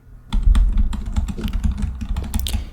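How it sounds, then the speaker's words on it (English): Close, crisp typing on a computer keyboard as an ASMR trigger: quick irregular clicks and key taps rattle continuously after a brief silent start. "You may hear typing from the empty office at the end of the hall."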